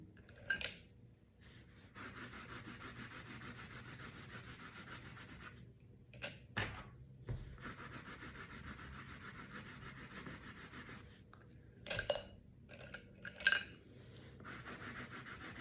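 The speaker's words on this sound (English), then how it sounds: "you can probably hear my colored pencil going back and forth on my paper" A colored pencil rubs back and forth on paper in close, quiet scratching strokes. The strokes come in long steady runs, broken by short pauses and a few light taps.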